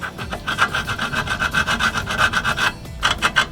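A metal bolt slot on a Z33 350Z rear toe bolt installation being filed smooth, with quick back-and-forth rasping strokes in a steady rhythm, close and clear, and no talking.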